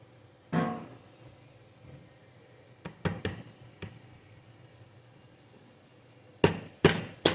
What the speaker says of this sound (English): we're going to just use the hammer again. We're going to go ahead and we're going to seat these T-nuts